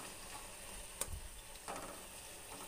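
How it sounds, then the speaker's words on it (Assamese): Sweet coconut puri frying in hot oil gives a soft, steady sizzle with a few brief crackles and pops, faint and close by. "এতিয়া মই পুৰি ভাজি যাম।"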